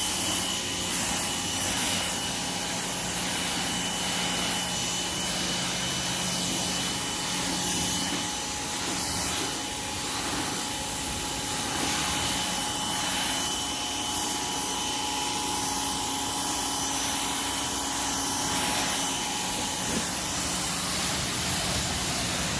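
A Greenworks electric pressure washer runs continuously, giving a steady, loud motor drone with a whining hum that stays level throughout, with no talking.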